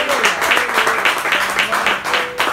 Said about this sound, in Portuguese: Uma salva de palmas para nosso Deus.